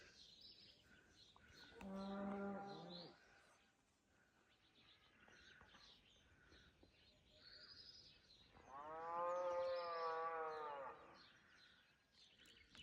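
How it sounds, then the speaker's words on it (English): Cows on a rural French farm mooing on a quiet morning, two loud drawn-out moos a few seconds apart over soft background farm ambience and faint birds. "you're waking up with sounds, cows moving"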